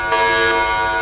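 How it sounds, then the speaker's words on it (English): Station alarms going off in the video game Space Engineers, a loud steady electronic buzzing tone that sounds continuously without a break. "why are the station alarms going off?"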